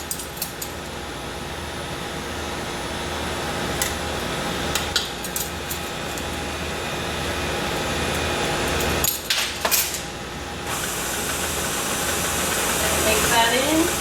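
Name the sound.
electric mixer mixing vanilla into cookie dough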